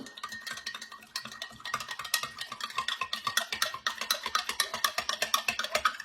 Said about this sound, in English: I'm going to get a spoon, and we're going to stir it up